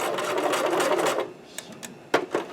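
A sewing machine stitches a cosplay collar in a close, rapid mechanical run for just over a second, then stops, followed by a few soft clicks and handling taps.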